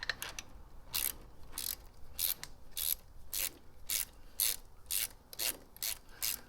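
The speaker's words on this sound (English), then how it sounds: "I definitely invest in some nice little ratchet wrenches if you haven't already" A ratchet wrench clicks in short regular bursts while loosening a bolt on a Harley shift linkage, about ten quick close strokes with brief pauses between them and no talking.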